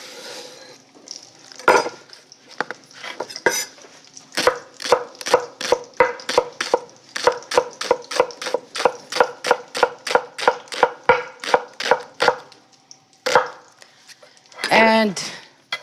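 A knife chops lettuce on a board for a lettuce soup, striking in a long, steady run of about two dozen crisp, evenly paced cuts, with a few softer handling sounds around them.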